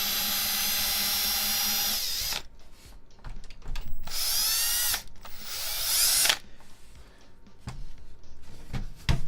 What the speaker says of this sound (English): I really hope my screwdriver bit works.